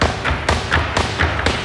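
At an MMA exhibition, five rapid right kicks strike a pad, giving a series of dull thumps roughly a quarter second apart over steady background noise.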